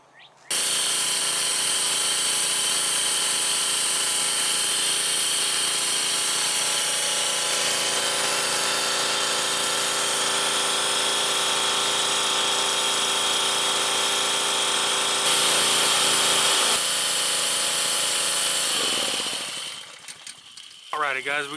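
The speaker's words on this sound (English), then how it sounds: "we got the little Honda powered pressure washer all fixed up and ready to go" A small Honda-engine pressure washer with a freshly fitted carburetor runs at a steady, loud, droning idle for about twenty seconds, then winds down near the end.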